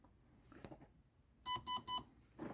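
Three short, clear electronic calibration beeps in quick succession after some faint handling noise, with a soft rustle starting up at the end.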